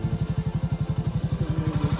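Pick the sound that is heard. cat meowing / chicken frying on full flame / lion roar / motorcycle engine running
motorcycle engine running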